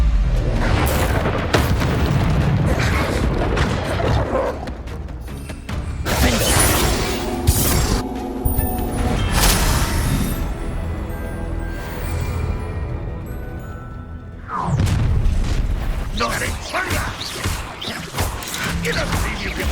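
Confringo and Incendio spell explosions in Hogwarts Legacy, loud booming blasts and fiery bursts that keep coming in heavy layers over a dense game soundtrack. A short dip comes before a fresh surge of blasts, and bits of voice can be heard now and then.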